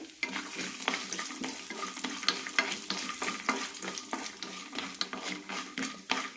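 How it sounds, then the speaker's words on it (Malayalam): Peanuts and urad dal frying in oil with mustard seeds, a busy crackling sizzle with repeated stirring scrapes and light pops, fairly close and continuous. "നിലക്കടലയ്ക്ക് ചെറുതായൊരു ബ്രൗൺ കളർ വരുന്നവരെ വറുത്തെടുക്കാം"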